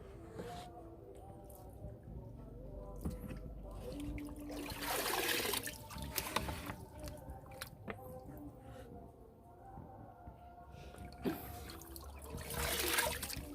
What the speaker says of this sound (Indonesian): Ini airnya kita kurangin dulu.